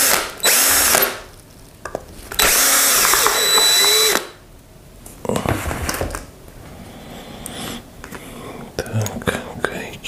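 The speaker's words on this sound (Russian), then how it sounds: "нам теперь еще надо вот это крепление открутить" Power drill unscrewing a mounting bracket during repair of a car's LPG gas system, with two loud sustained whirring bursts followed by lighter rattling and handling noises, and someone talking quietly in between.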